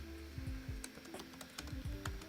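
Computer keyboard typing while layers are renamed in photo-editing software, a quiet, steady patter of key clicks in irregular short bursts close to the microphone, with no voices.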